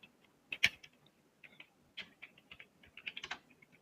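A computer keyboard clicks close by as someone types a short word, in uneven bursts of crisp keystrokes separated by brief pauses, with no voices.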